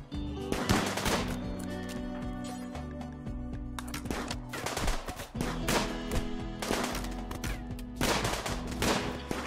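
Bursts of gunfire from a Rimworld battle crackle in clustered volleys, sharp rapid shots repeating across the stretch, loud and close in the game mix.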